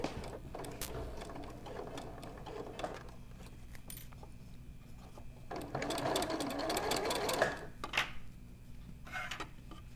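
A sewing machine stitching a sweater, running in soft stretches with a steady mechanical patter and a louder run in the middle, close and fairly quiet, with small handling clicks between runs.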